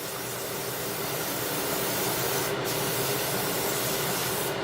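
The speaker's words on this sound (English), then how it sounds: "you'll need some of that to spray your pan. And spray it well." A continuous aerosol spray of Crisco cooking spray onto a baking pan hisses steadily and close for several seconds without a break.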